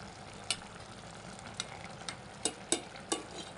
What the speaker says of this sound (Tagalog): videohan yung ating paggisa. Diba? Fresh na fresh yan. May halong sardinas.